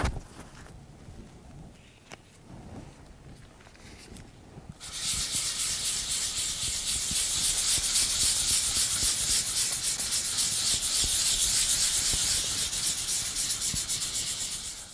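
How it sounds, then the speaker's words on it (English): A bronze-coated surface, liquid bronze over terracotta, being hand sanded with 500 grit sandpaper: after a quiet start, a steady close rhythmic scratchy rubbing continues without pause. "grab my fine grade sandpaper, I've got a 500 grit here, and I'm going to lightly burnish the surface"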